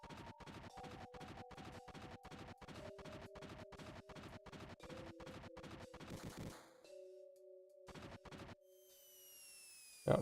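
Rapid video-game gunfire from Final Fantasy 7 rattles in dense, evenly spaced bursts for about eight seconds over sustained synth tones, then cuts off, leaving a fading whoosh and a sharp hit at the end.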